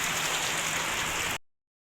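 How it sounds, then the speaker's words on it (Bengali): Heavy rain pours steadily on a surface with wind, a dense continuous hiss that stays loud and even before cutting off abruptly. "প্রচুর বৃষ্টি পড়ছে, বাতাসও দিচ্ছে"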